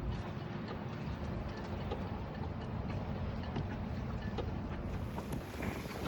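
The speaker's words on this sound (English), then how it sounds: "It's a little windy today." Gusty wind roars across an anchored sailboat at night, a steady broadband rush with low buffeting rumble and occasional rattles from the rigging, continuous and fairly loud without any voices.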